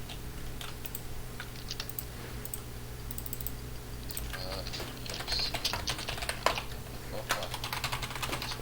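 Rapid clicking and keyboard tapping during a player-versus-player computer game, a dense stream of fast irregular clicks over a steady background hum, with faint voices.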